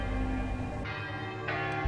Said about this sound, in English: past the church bells of Saint-Jérôme